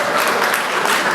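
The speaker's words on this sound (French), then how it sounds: "Ça s'applaudit aussi, hein, normalement." Audience at a Women's Day event in Geneva breaking into applause, a dense, loud burst of many hands clapping filling the whole moment, no talk over it.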